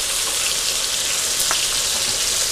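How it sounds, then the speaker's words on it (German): Steaks fry over full heat in plenty of margarine in a pan, a loud, steady, dense sizzle with faint spatters and a soft clink, no talking. "2 Minuten auf voller Hitze schön anbraten"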